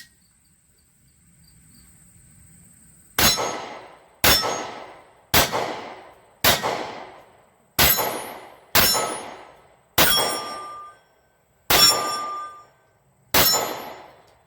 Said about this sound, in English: you can hear it was ringing that steel pretty good